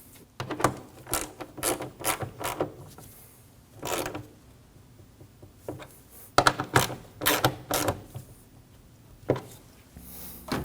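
Ratchet snugging down the radiator mounting bolts on a 2016–2022 Honda Pilot: repeated bursts of quick clicking strokes in an uneven rhythm, close and moderately loud, with short pauses between sets.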